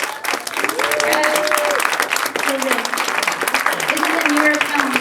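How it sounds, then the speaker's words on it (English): Audience applause at a New York film festival Q&A screening, a steady crowd clapping throughout with voices and cheers mixed in over it. "give everyone a round of applause"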